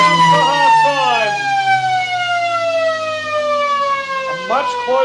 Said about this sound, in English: The siren sounds for half time.